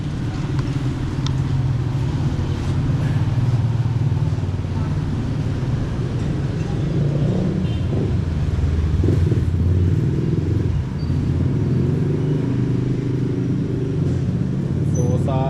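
A newly bought engine for a small wooden boat is test run: a continuous, steady mechanical drone with a low rumble that holds at an even loudness throughout.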